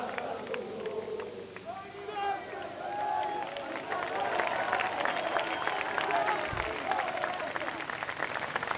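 AC Milan supporters cheer and chant in tribute to Kakà on his return to the club, a dense, continuous crowd roar with rising shouted voices that swells slightly and stays loud and close throughout.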